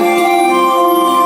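A Yamaha CSP-275 digital piano plays a song in a brief, steady burst of sustained tones with rich overtones, close and full.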